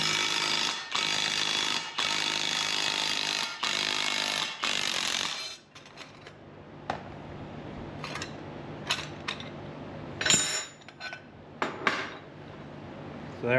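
Impact wrench driving bolts to press a Swag Off-Road dimple die through metal, heard as a loud sustained rattling burst at first, then quieter clanks and a few sharp metallic hits, with no talking.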